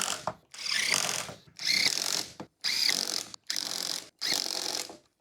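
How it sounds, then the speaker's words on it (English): A 4mm hex driver tightens Loctited bolts on an Inmotion V9 electric unicycle, producing five close, loud bursts of rapid ratcheting clicks separated by short pauses, with no talking. "we'll take our 4mm hex driver and tighten these"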